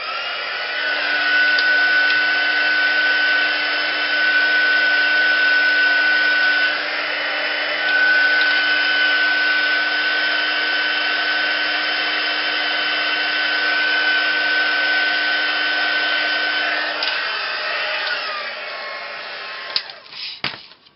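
Heat tool drying paint on a mixed media tag card, a steady loud whirring blow that holds for nearly twenty seconds, shifting pitch slightly before cutting off with a few small clicks.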